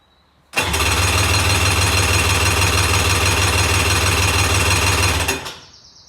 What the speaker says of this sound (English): We are only going to run it up for a second if it runs